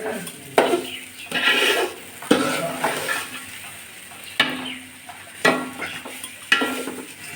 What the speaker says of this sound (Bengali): আমি এরকম আদা করে মশলা দিয়ে ভালো করে কষিয়ে নেবো চালটা